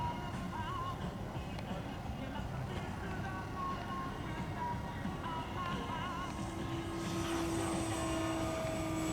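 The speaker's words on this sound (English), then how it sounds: "it will be from the time that his aircraft leaves the ground until the wheels return" A radio-controlled model airplane at a LAMA Fest timed-flight fun-fly competition hums as a steady, continuous engine drone throughout, with an announcer talking over it.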